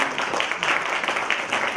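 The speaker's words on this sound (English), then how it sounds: "A round of applause for Vicky." A public speaking club audience applauds a district sponsor named Vicky, dense, even clapping from many hands, steady and fairly loud throughout.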